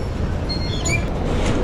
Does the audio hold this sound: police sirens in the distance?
no